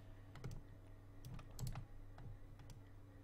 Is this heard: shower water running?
no